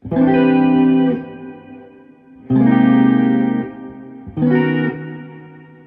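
Three sustained electric guitar chords ring out one after another, each trailing into a long, lingering reverb wash from a Carl Martin Headroom Mini pedal with the decay turned up, before the next strikes.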